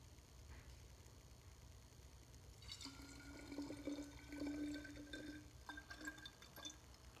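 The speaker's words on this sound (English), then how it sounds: "So I'm just going to pour my water in here." Water pours into a see-through glass cup with a rising, ringing fill tone over faint background hiss, followed by a few light splashes and drips, quiet and near.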